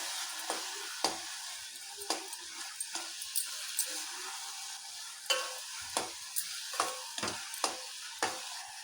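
Ghee is stirred into a sweet village-style kadabu rice mixture in a pan, a soft sizzle underlying repeated scraping strokes of a spoon that come in an irregular rhythm, close and fairly quiet, with no talking.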